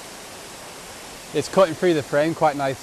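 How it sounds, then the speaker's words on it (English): Tom Gill waterfall in the Lake District gives a steady, close rushing roar that runs unbroken throughout, with someone talking over it in the second half. "we're getting a better view of that waterfall that I talked about."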